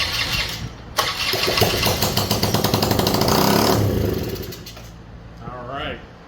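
A 2003 Honda Elite 80 scooter, left sitting for 15 years, is cranked with its exhaust removed: a loud, close, rapid mechanical chugging runs for about three seconds, then stops, followed by a brief voice.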